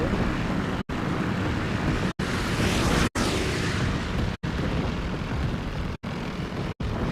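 Rumbling anti-aircraft flak fire in the World War II shooter Call of Duty WW2: a dense, steady roar of explosive bursts and engine drone, loud and continuous, broken by a few abrupt cuts of silence.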